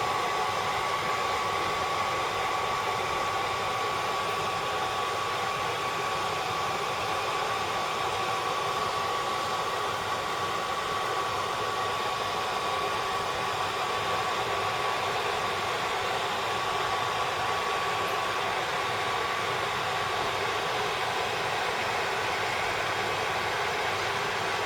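A hairdryer blows steadily on the glue under a motorcycle tank pad, a loud unbroken whoosh with a faint constant whine that runs without a break and with no voices.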